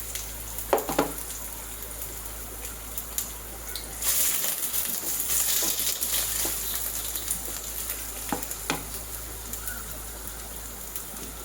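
Two finely sliced large onions sauté in a pan with garam masala, giving a steady soft sizzle with scattered crackles and a brief louder burst midway, close and alone without talk.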